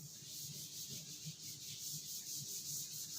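A duster or cloth rubs writing off a classroom board in continuous back-and-forth strokes, a soft hissing scrub with a steady rhythm, fairly faint and close, with no speech during it.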